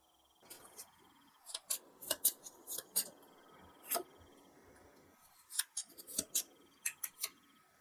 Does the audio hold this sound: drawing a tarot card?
yes